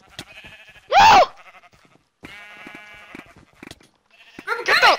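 Sheep in the video game Minecraft bleat in two loud, wavering calls, one early and one near the end, with quieter game sounds and a voice between them.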